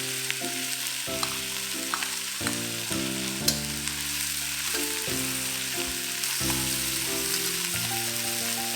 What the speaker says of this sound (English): Add in some more oil if necessary, then add in the aromatics. That's the ginger, the spring onions, the garlic,